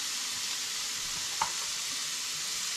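Food sizzling steadily in sunflower oil in a frying pan for rice noodles with vegetables, a continuous close hiss with one brief clink of stirring midway.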